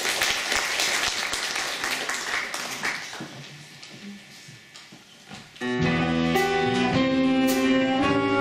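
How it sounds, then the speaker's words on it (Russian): A concert audience applauds for a Chelyabinsk State Institute of Culture variety orchestra ensemble at an anniversary evening, dense clapping that fades before music starts up loudly at the end. "Ваши аплодисменты."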